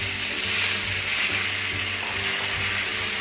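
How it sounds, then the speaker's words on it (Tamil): Five small chopped tomatoes sautéing in ghee in a pan give a steady, close hissing sizzle with faint scraping underneath, continuous throughout with no talking. "இதுலேயே தக்காளியை சேர்த்து நல்லா வதக்கணும்"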